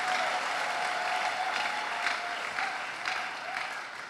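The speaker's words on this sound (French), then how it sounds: "On acclame le Dieu de gloire." An audience in a French church worship service applauds to acclaim God, producing dense, steady clapping that fills the whole stretch at an even level and tapers slightly at the end.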